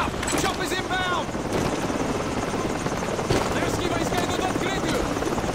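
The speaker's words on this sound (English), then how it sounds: "Heads up! Chopper's inbound!" A helicopter in Call of Duty 4: Modern Warfare drones with a loud, continuous rotor roar throughout, mixed with scattered battle noise and brief chirping radio-like sounds.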